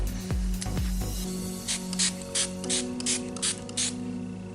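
Short bursts of fine mist spraying from a makeup setting spray pump bottle, several quick sprays in a row after some handling clicks, close and fairly loud.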